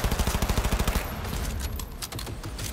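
Rapid automatic gunfire from the video game Cyberpunk 2077, a fast regular burst of loud close shots in the first second, followed by scattered shots and rumbling blasts.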